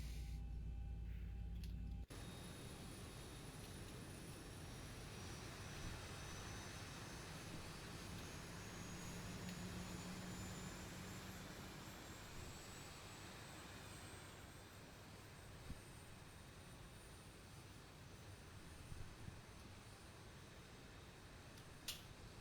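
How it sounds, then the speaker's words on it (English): Boeing 737-800 engine number 1 spooling up in the Zibo flight simulator, a steady broadband jet roar with a rising high whine building over about twenty seconds, loud and continuous without talk. "Starting engine number 1."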